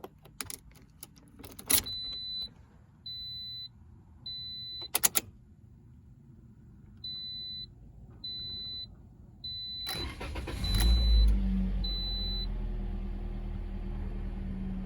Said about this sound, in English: And we'll start the engine.